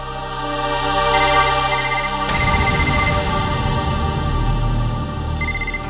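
A telephone rings inside a family home, a steady electronic ringtone repeating loud and close over several seconds, with layered tones and no talking.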